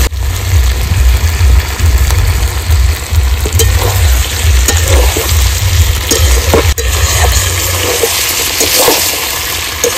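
Desi country chicken sautés in a pan, giving a loud, continuous sizzle and crackle with occasional stirring scrapes, heard up close with no talking.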